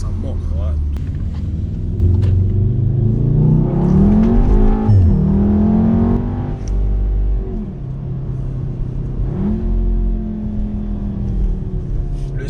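Engine of a Volkswagen Golf R on a road drive, a deep rumbling drone that swells as it accelerates through the revs and then settles, with people talking inside the cabin over it.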